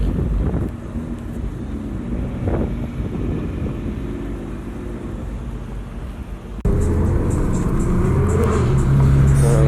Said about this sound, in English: Sam's GTR is so loud